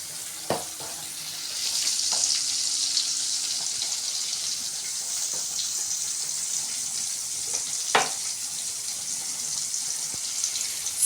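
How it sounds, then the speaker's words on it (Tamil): Onions sautéing in a pan on the way to golden brown for a banana stem poriyal, with a steady close sizzling hiss and occasional sharp clicks and taps of a spoon stirring against the pan. "வெங்காயத்தை நல்லா வதக்கிக்கோங்க."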